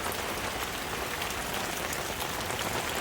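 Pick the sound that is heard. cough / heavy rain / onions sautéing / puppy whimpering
heavy rain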